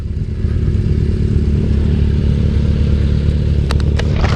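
Kawasaki Z900 motorcycle engine revving hard and close, a loud steady roar with layered exhaust harmonics, topped near the end by a few sharp crackling pops.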